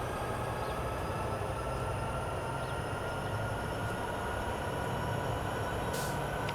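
Train Sim World 2 train on the Sherman Hill Cheyenne–Laramie route, a steady loud rumble of engine and rolling wagons that holds evenly throughout, with a brief high hiss near the end and no talk.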